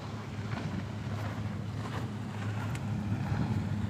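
A fishing boat motors at sea, its engine giving a continuous low rumble beneath wind and wash noise. The sound is steady, with no voices.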